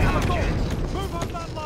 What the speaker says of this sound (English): Heads down! Incoming barrage!